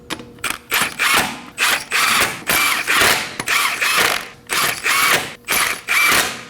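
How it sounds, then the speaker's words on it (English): Hand ratchet snugging lug nuts on a Nissan Armada wheel, rapid clicking bursts repeated about ten times in short strokes with brief pauses between, close and loud, with no talking. "Install the lug nuts by hand. And now go ahead and snug them up in a star-shaped pattern."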